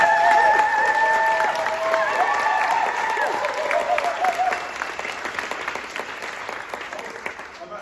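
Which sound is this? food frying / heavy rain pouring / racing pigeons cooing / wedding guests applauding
wedding guests applauding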